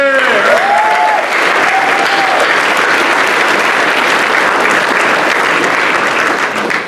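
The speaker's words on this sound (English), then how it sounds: "We should give them a round of applause." Loud, sustained applause from a crowd honouring three people at a Legal Aid Society gathering, steady and dense throughout, with a voice briefly audible over the clapping near the start.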